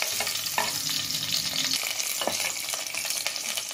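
Chopped onions fry in a pan with a dense, close crackling sizzle, broken by a few spatula scrapes and taps as they are stirred.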